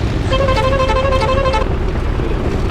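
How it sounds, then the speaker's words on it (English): A car horn honks in the Assetto Corsa racing sim, one steady toot of about a second and a half, loud over a constant engine rumble. "And a horn."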